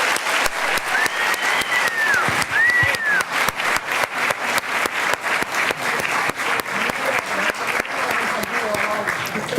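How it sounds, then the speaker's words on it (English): At a school district recognition event, an audience applauds City Year with sharp, rhythmic clapping that settles into a steady beat, with cheers, whistles and scattered voices threaded through. "So, ladies and gentlemen, give them another round of applause."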